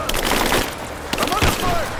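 Gunfire in Rise of the Tomb Raider erupts in bursts of shots over a steady roar of battle, with voices calling out amid the firefight.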